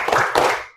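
A school class claps together in unison in a classroom, two sharp, loud group claps in quick succession that ring out briefly.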